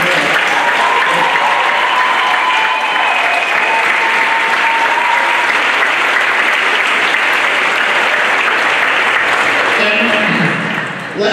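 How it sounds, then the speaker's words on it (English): Loud, sustained applause from a large crowd at a university athletic awards ceremony fills the whole stretch, steady clapping and cheering that tapers off only at the very end. "Let's give them a huge round of applause."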